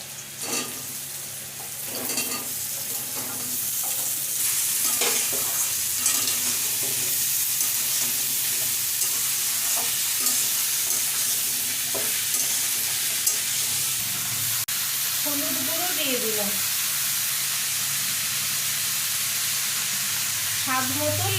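Ridge gourd and potatoes fry in a pan with a steady sizzle and hiss, interrupted by intermittent stirring scrapes, and a voice comes in faintly near the end.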